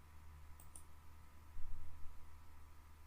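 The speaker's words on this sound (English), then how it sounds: "Now if I click again and little bit zoom out," A computer mouse clicks twice in quick succession, close and crisp over a steady background hum, with no talking.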